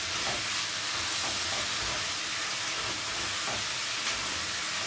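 Broccoli and cashews sizzle in a hot wok for a Sichuan stir-fry, a dense continuous hiss with faint scraping as the pieces are turned over, loud and close with no speech.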